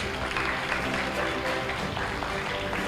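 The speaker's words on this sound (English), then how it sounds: "please welcome them with a warm round of applause." Conference audience giving a warm round of applause to welcome two speakers, a continuous, fairly loud bed of clapping with a low hum and crowd murmur underneath.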